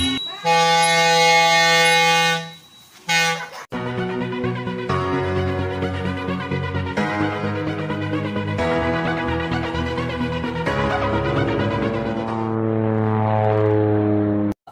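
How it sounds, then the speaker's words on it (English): An Air Car flying car drones in flight with its propeller engine, a loud steady tonal buzz that dips briefly, then returns under layered music-like tones and fades near the end. "This is the Air Car, a flying car that lets you drive down the interstate, then take an interstate flight without leaving your seat."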